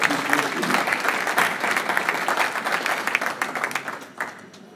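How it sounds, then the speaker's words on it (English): Applause from the audience at a Thanksgiving dinner and awards ceremony, a crisp burst of many hands clapping that stays strong for several seconds, then thins and tapers off with a few scattered final claps. "I would like us to give a round of applause to these leaders for the value that they are bringing to the work that we do."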